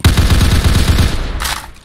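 Rapid automatic gunfire in a Roblox shooter, a fast even burst of close, loud shots lasting over a second, then a short trailing hiss as the firing stops.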